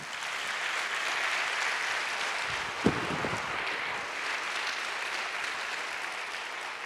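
A congregation at a Sunday church service claps in praise of the Lord, a soft, steady wash of many hands, with one sharper knock standing out briefly near the middle.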